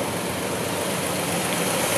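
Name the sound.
1956 Pontiac Star Chief engine running smoothly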